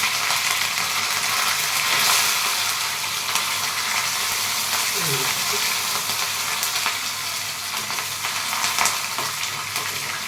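Curry leaves tempering in hot oil for a peanut-coconut chutney make a dense, continuous crackling sizzle, loud and close throughout, with a brief spattering burst midway and no voices.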